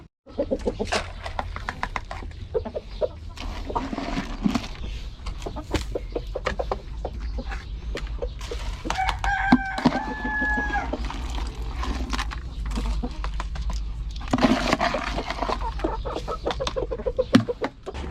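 Pet chickens cluck busily in a dense, continuous chorus, with a rooster crowing once midway through, all close by and with no one talking.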